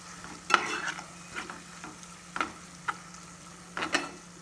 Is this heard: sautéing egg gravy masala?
yes